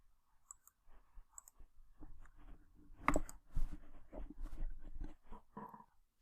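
Computer mouse clicks on a desk, a few sharp, quiet clicks spaced apart at first, then a busier cluster of clicks and taps.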